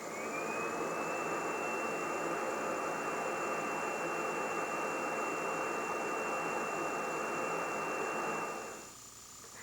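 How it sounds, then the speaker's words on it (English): A 1996 Kirby G5 vacuum blows air through its inflator-deflator tool on the attachment hose, a loud steady whooshing roar with a high whine that holds for about nine seconds, then cuts off and fades. "By attaching the inflator-deflator tool to the attachment hose, you can inflate toys, air mattresses, or other similar low-pressure inflatable items"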